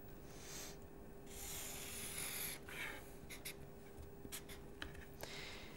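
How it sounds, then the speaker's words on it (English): Pen or marker scratching across a surface while a vertical line is drawn during a maths lesson, faint rubbing strokes with a few short scrapes over a low steady background hum. "let me draw a vertical line."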